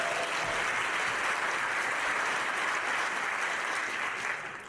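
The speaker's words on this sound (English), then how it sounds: "Round of applause for him," A large conference audience at a BUILD25 Dallas event breaks into sustained, dense applause for a mentor, a steady wash of many hands clapping that fades slightly at the end.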